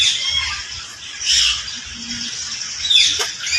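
A colorful parrot at a wildlife park in Ninoy Aquino Parks and Wildlife Center lets out harsh, bright squawks in several bursts over steady outdoor background noise.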